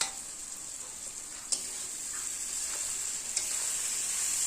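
Fish and eggs frying in oil in a pan give a steady, close hiss and sizzle, with a couple of faint clicks from the pan or utensil. No voices.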